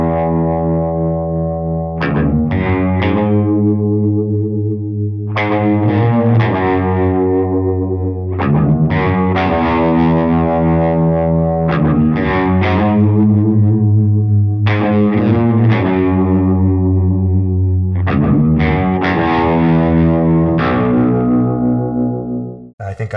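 Doubled baritone guitar spread wide in stereo and heavily effected with distortion and chorus, playing loud sustained chord phrases in a repeating pattern with gaps between groups, ringing out and fading at the close.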